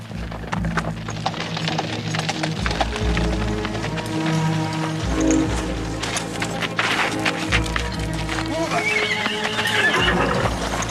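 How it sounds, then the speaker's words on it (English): A horse whinnies loudly while hooves clop rapidly nearby, galloping and stamping amid a busy, clattering outdoor scene. "Stop that horse."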